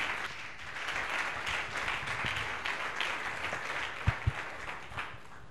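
Steady applause from a church congregation fills the space, a sustained wash of many hands clapping at a worship service, with a few sharper knocks near the end.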